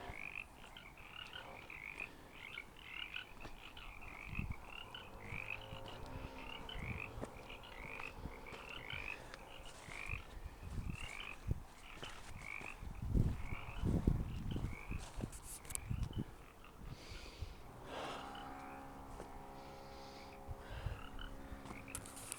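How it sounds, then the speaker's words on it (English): A chorus of chorus frogs croaking in rapid pulsing trills, fairly faint and outdoors in a canyon park in San Diego, with some scattered knocks and rustles partway through. "I love the sound of the chorus frogs"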